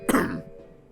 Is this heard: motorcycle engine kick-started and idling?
no